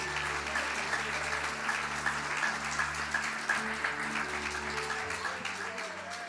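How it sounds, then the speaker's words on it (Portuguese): A church congregation at a Portuguese-language evening service in Lisbon claps steadily throughout, the applause running under sustained music and voices. "Aplauda o Senhor nessa noite."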